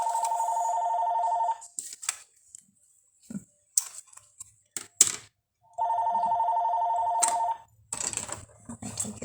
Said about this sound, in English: Our house phone usually never rings,